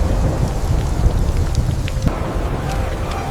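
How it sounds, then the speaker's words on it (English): A thunderstorm with heavy rain roars steadily and loud, with low rumbling thunder running through a dense wash of rain for several seconds. "Rain poured down. Fires were extinguished."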